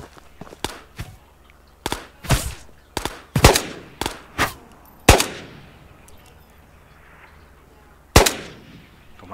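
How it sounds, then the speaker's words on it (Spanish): Gunshots in a video game crack one after another in irregular bursts, each sharp report trailing into a ringing echo, with brief pauses between volleys. "¿viste que se escucha el eco del disparo?"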